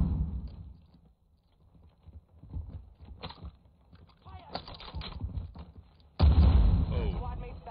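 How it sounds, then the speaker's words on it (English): Gunfire in an online multiplayer shooter game rings out as scattered sharp cracks and bursts, turning into a loud, dense barrage near the end, with players talking throughout. "I hear the gunfire."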